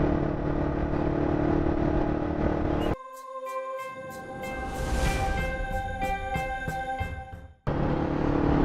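A TVS Apache 200 motorcycle loaded with luggage, cornering over a flyover on a long-distance ride from Bangalore toward Munnar. There is steady engine and wind roar, broken by a quieter middle stretch with sustained tones.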